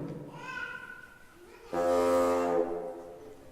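A woodwind quintet instrument sounds a low, blaring horn-like tone once for about a second, imitating a bull's bellow, preceded by a short higher reedy note.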